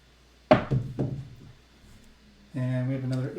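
Dice thrown onto a casino craps table land with a sharp clatter and a few quick rattling bounces, followed by a short quiet stretch before a voice comes in.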